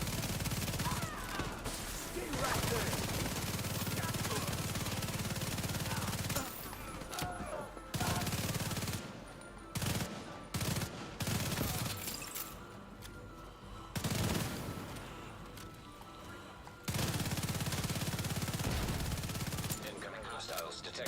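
Rifle fire in The Division 2 video game, long sustained volleys broken by short pauses and single shots, loud and close throughout with game effects beneath.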